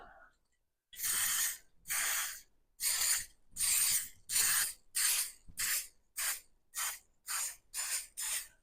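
Cooking spray hisses from an aerosol can over bread cases for egg and bacon tarts, in about a dozen separate bursts that start long and steady and grow shorter and quicker, close and fairly loud with no talk.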